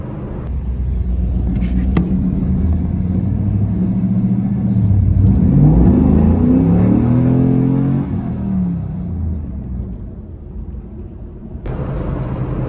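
A Chevrolet Camaro SS with a suspected fuel pump fault under hard acceleration, its engine roaring loudly with a climbing, sweeping rev before easing back to a steady rumble, heard from close by with no talk.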